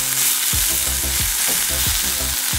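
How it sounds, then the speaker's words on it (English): Frozen Trader Joe's Salvadoran pupusa pan frying on a stovetop, a steady loud sizzle with rhythmic scraping and stirring strokes roughly every half second, close up and with no voices. "Instructions is to stovetop fry it"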